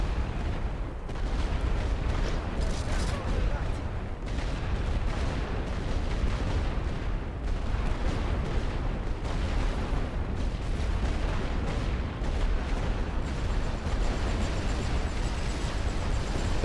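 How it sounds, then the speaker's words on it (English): Dense, continuous battlefield din from The Great War: Western Front, with tank cannon and suppressing machine-gun fire rolling into a steady roar of booms and crackling bursts, loud and unbroken throughout. "They've got suppressing fire. We've got tank fire."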